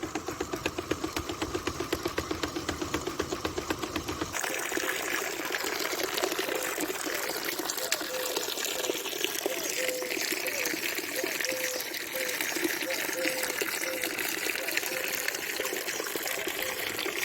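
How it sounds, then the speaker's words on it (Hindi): Irrigation water gushes and trickles into freshly shaped garden beds, a steady wash of flow with a faint engine idling in the background. "तो पानी अभी चल रहा है क्यारियों में।"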